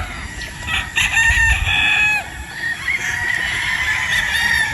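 A Boston breed rooster crows repeatedly at close range, two or three loud strained calls rising and falling, with other fowl clucking faintly in between.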